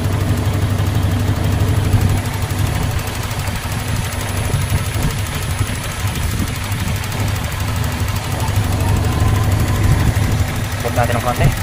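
A Toyota FX Revo engine idles at normal RPM after the automatic choke has finished, a steady close, rumbling run with faint knocking texture, and people talk over it throughout.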